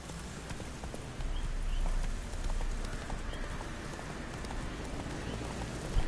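Roach the horse trotting in the video game The Witcher 3: Wild Hunt, a continuous run of clip-clopping hoofbeats that stays even and close throughout.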